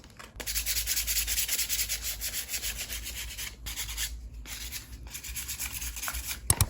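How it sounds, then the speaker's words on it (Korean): Steady scratchy rasping of sandpaper rubbed back and forth on hardened, bumpy air-dry clay, close and continuous, with a few brief pauses near the end. "이 울퉁불퉁한 부분들이 너무 많아서 이 사포로 살짝 갈아줄게요."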